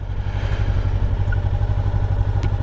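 A 2024 Honda NX500 motorcycle engine running steadily, a low throbbing mid-range drone with some mechanical clatter, close and continuous with no talking.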